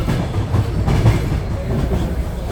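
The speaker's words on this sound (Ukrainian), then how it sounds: "Ну зараз ми будемо їхати на електричці" Electric commuter train rolling along the rails, a steady loud rumble with rhythmic clickety-clack from the wheels, heard from inside the carriage with no talk.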